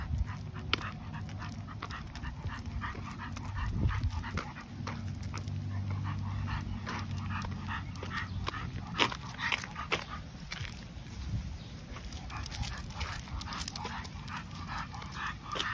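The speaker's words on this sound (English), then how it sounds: "He's just a well-structured, well-built dog." A well-built, stocky dog on a morning walk pants steadily in quick rhythmic breaths, close to the microphone, with occasional soft whimpers and yips over faint outdoor background noise.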